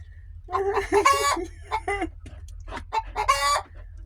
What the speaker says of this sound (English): And I have a bougie country chicken.